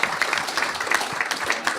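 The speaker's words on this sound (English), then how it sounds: "round of applause for Steve" A short burst of audience clapping for a speaker, fairly close and brisk, with scattered individual claps standing out over a couple of seconds.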